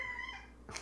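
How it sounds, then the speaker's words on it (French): A pet cat meows in a drawn-out, wavering call that slides downward, then ends with a sharper, brighter cry, close and fairly quiet with no talk. "c'est mon chat, désolé."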